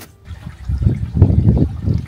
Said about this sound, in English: Now we're gonna fill it up the rest of the way and give her some more water.